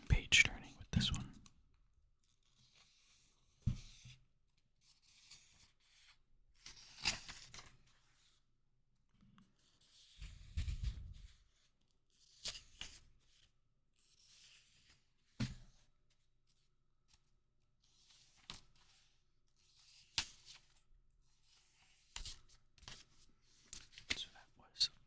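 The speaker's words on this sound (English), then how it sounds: "Let's try some page turning with this one." Pages of a Lord of the Rings paperback turn one after another in soft, close papery swishes and flutters, spaced several seconds apart in a quiet room with faint whispering between them.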